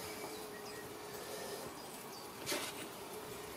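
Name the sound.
honey bees buzzing around a hive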